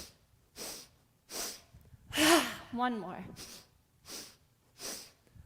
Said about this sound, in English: So from here, 3 little sniffs.